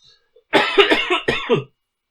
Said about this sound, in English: Apologies about the cough.